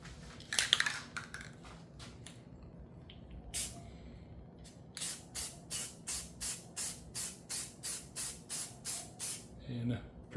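A spray can of sandable filler primer hisses onto a dented motorcycle fuel tank in a home garage: a few scattered bursts, then a steady run of short, evenly spaced sprays, close and crisp.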